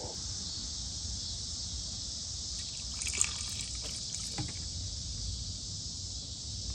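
Replacement washer fluid pump on a 1969-1997 Ford Mustang spraying fluid, a steady hissing spray with faint trickling and a few brief louder spurts in the middle.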